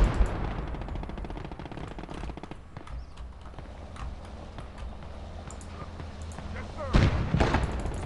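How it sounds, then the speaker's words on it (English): Artillery and cannon fire in the World War II strategy game Gates of Hell: repeated heavy booms and crackling gunfire, with a louder close blast near the end, over a continuous rumbling battlefield bed. "There's artillery over there. Cannon fire incoming! Artillery! Incoming."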